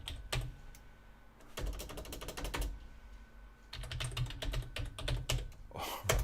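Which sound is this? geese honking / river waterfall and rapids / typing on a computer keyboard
typing on a computer keyboard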